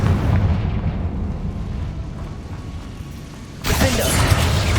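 A fiery Confringo spell goes off in the game Hogwarts Legacy, a rumbling explosive boom that fades, then a sudden bright burst near the end.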